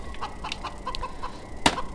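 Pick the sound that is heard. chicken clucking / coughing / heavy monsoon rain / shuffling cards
chicken clucking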